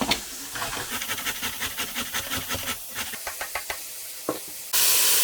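Meat fries in a pan and gives off a steady hiss with faint crackles. Soft knocks and stirring taps sound at an irregular pace over the sizzle, and a louder burst of hissing comes near the end. No voices are heard.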